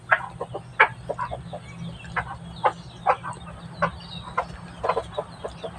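Chickens clucking in short, repeated bursts across a farmyard, several birds calling at irregular intervals over a steady low background hum.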